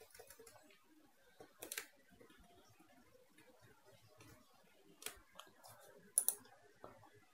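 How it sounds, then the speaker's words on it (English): Faint computer keyboard presses and mouse clicks while editing in free video software, sparse sharp taps with a few louder clicks in a very quiet room. "press yes on your keyboard or click on this icon"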